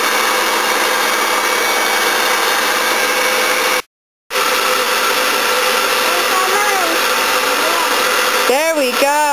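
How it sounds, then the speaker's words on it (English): Electric mixer whirring through scone dough in a home kitchen, a steady loud motor whine that cuts out briefly and then resumes, with a voice audible near the end. "we're just going to blend it just a little bit just to get it mixed"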